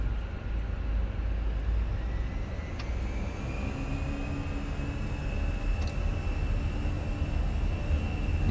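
Fenix A320 airliner engines in Microsoft Flight Simulator spool up during the takeoff roll, a steady, loud jet roar and rumble with a rising whine and a couple of faint clicks.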